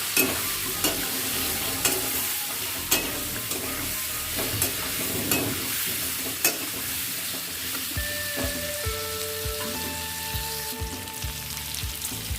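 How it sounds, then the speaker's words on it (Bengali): Potatoes seasoned with salt and turmeric fry in a pan with a continuous close sizzle, broken by sharp scraping and clacking spatula strokes at irregular intervals, with some clinking tones near the end. "লবণ আর হলুদ দিয়ে আলুগুলো ভালোভাবে ভেজে নেব"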